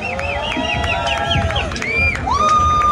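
A concert audience cheers and whoops with loud whistles. The noise is dense and continuous over a rumbling crowd and lasts a few seconds.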